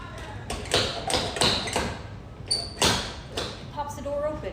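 A Walmart walk-in oven door pops open when its emergency button is pressed, making a few sharp taps and thumps of the mechanism. A voice talks over it.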